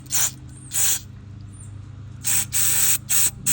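Short hissing bursts of carburetor cleaner spray blown through the tiny ports of a Yamaha 9.9 outboard carburetor: two quick blasts, a pause, then three more, close and loud over a low background hum.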